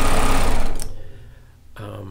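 A serger sewing machine whirs loudly in a quick run, stops, then starts up again at the end.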